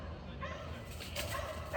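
A dog barks and whimpers indoors in short yips, moderately close but fairly quiet, with faint room noise and no talk over it.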